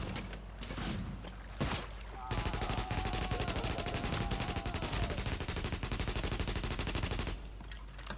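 An automated turret firing in the video game The Division, rapid continuous machine-gun bursts pounding for several seconds after a few scattered shots, loud and rhythmic before cutting off.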